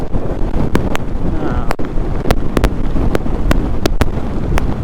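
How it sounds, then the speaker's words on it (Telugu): Strong wind roars at the microphone while a motorbike rides a highway service road between Munnar and Coimbatore, a loud constant rush broken by sharp buffeting bursts and clicks. "విండ్ మాత్రం ఘోరంగా వస్తుంది"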